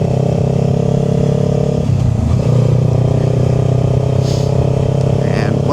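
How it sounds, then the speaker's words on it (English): Motorcycle engine braking on a road, a loud steady engine drone that drops in pitch partway through as the revs fall, then settles into a lower hum with faint higher whines near the end. "But engine braking is a real thing."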